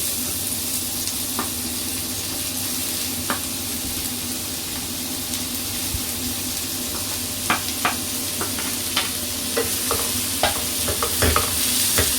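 Sliced onions sauté in a little refined oil in a pan, with a steady close sizzle throughout. Scattered scraping and clinking from stirring grows more frequent toward the end.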